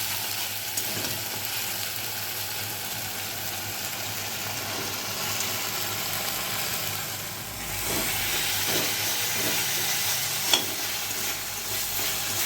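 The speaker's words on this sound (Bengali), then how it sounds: "পেঁয়াজ রসুন বাটাটাকে আমি কিছুক্ষণ তেলের মধ্যে ভালো করে নেড়ে নেব" Onion and garlic paste fries in oil with a continuous close sizzle and hiss, stirred now and then, growing a little louder partway through with one sharp clack near the end.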